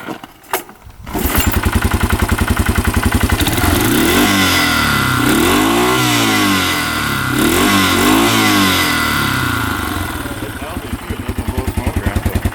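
A 4x4 ATV engine starts with a sputter, then idles and revs repeatedly in rising and falling surges, loud and close, settling back to a pulsing idle, with people talking briefly nearby.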